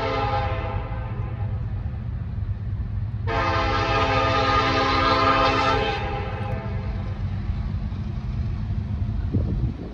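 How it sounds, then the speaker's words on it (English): A coal train rumbles past steadily while its horn sounds loudly for a few seconds in a long chord, then the rolling continues alone. "It's a coal train."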